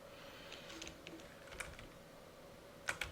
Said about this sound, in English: I'm using my arrow keys,